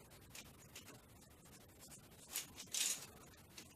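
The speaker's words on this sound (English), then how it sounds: "So instead of tearing, we have to resort to a knife" Quiet scratchy cutting sounds, a knife blade scraping and slicing through PVC tape in short strokes, close by and soft, with a couple of sharper bursts.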